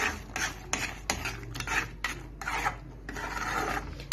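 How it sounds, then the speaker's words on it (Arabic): Strawberry jam with lemon juice is stirred in a pot, giving repeated rasping scrapes in an uneven rhythm of about ten short strokes, close and fairly loud, with no talk. "ثواني هرجع بقى اديها تقليبه كمان"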